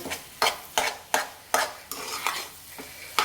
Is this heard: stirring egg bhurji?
yes